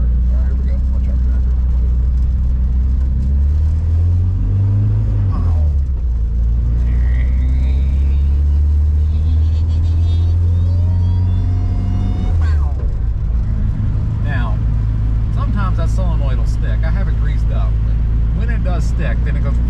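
Engine of a Renault R8/R10 with automatic transmission rumbles steadily in a low, loud drone, rising as it accelerates, with someone talking over it throughout.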